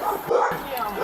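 Dogs barking at a house, a couple of short yaps and bow-wows close by, mixed in with people talking.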